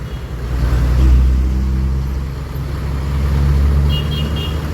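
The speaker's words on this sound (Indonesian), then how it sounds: "terus bus HD ini sudah dipanasin pagi-pagi," A large diesel engine of a bus idles steadily in the early morning with a deep low rumble, swelling slightly at times, with faint traffic noise around it.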